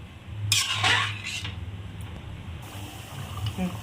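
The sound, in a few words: water being poured into fish curry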